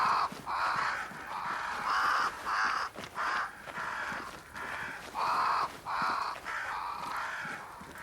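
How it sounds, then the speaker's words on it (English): Crows caw repeatedly in Banishers: Ghosts of New Eden, a flock gathered around a great tree, harsh calls coming in uneven bursts that overlap and carry at moderate distance with no voices. "Crows. They flock to that great tree up there."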